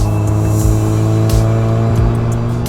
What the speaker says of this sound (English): when I have that audio captured on my phone, I can then cut that under the video of the car driving by or rolling